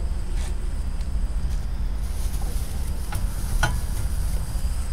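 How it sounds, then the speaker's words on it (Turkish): Potatoes fry in a pan with a steady, loud sizzle that runs unbroken throughout, joined by a few faint clicks and clatters from the kitchen. "Evet, şimdi Hamza orada patatesleri kızartırken ben de şu kahvaltılık çeşitlerini sereyim"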